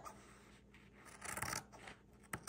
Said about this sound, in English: instead of using the rotary, we're going to go ahead and use the scissors.